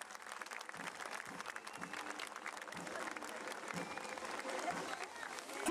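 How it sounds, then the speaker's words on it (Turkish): A crowd claps steadily throughout, a dense patter of many hands, with a voice speaking faintly underneath. "Alkışlarla teşekkür ediyor."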